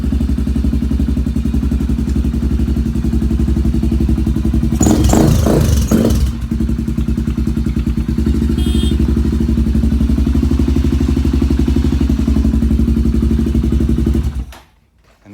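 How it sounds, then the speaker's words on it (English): A Honda 400EX quad with a big bore kit and an FCR carburetor idles loud and close with a steady, throbbing low-pitched thump. A short burst of clattering rises partway through, and the engine cuts off abruptly at the end. "I like it when it starts first time"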